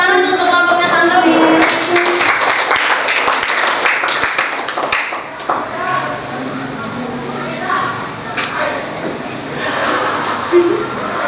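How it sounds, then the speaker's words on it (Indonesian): Classroom audience clapping for a presenting group, scattered hand claps mixed with voices and chatter that fade into general murmur. "Tepuk tangan untuk kelompoknya Tantowi"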